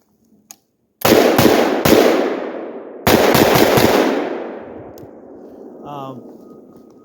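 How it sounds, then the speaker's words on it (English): Shots from a 7.5-inch AR-47 rifle fired outdoors: a few loud, sharp blasts in quick succession, each followed by a long rolling echo that slowly fades. "Okay, so I'm gonna shoot in two different directions"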